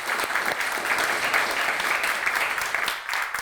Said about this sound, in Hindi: तालियां ऋतु जी को